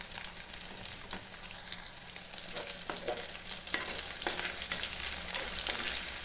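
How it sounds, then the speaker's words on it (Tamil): Chopped tomato and onion sauté in oil in a pan, giving a continuous close sizzle that grows slightly louder, with scattered stirring scrapes and crackles. "தக்காளி நல்லா வதங்கி வரட்டும்"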